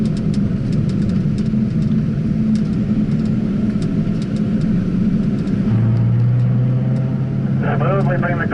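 A car driving laps at the Spring Mountain driving school track, heard from inside the cabin as a loud, steady engine rumble with a shift in engine tone partway through, and an instructor talking over it.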